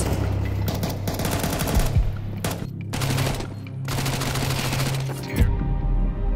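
Rapid bursts of automatic gunfire from a Counter-Strike match between NAVI and Imperial rattle loudly in clusters with brief gaps, while a caster talks over them.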